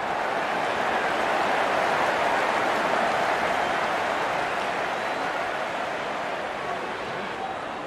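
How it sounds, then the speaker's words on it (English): A large stadium crowd at an India vs Pakistan cricket match, a dense continuous roar of cheering that holds steady from a distance throughout. "Such a wonderful crowd in to watch their favorite players."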